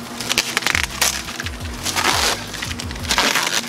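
Protective plastic film crackles and crinkles as it is peeled off a plexiglass sheet, with steady rustling and several sharper crackles throughout, close and fairly loud, with no talking.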